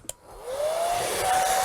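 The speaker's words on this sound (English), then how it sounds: "We're going to grab the hairdryer here," A handheld hairdryer switched to high blows over glossy wet paint on a Man of Steel painting, starting with a click, then a loud steady whoosh whose whine climbs in pitch and holds, close by.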